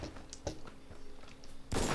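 Several sharp gunshot cracks from a video game, scattered across the moment, ending in a louder burst of fire.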